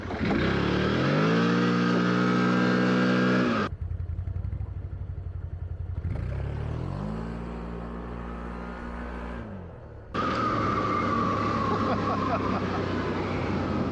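A 2024 CF Moto Cforce 1000 Touring G3 ATV's engine revs hard and close during a test ride, rising and falling through throttle surges with a quieter dip in the middle, while someone talks over parts of it.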